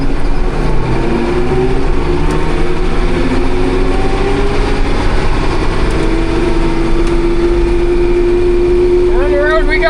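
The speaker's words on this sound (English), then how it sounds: "Gotta run with 2 tractors so we get this hay chopped." Farm tractor engine drones steadily up close while chopping hay, a constant loud hum with a low tonal whine that holds throughout and shifts slightly in pitch near the end.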